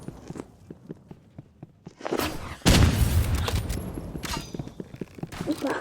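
Gunfire in the shooter game Rivals: sharp shots and a loud blast ring out close amid steady footstep-like thuds and game noise, with a voice talking over the action.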